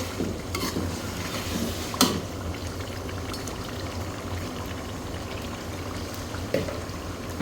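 Fish with yogurt cooking in a covered pan over a low flame gives a soft, steady sizzle and light bubbling, with a few clinks of utensils; no one talks.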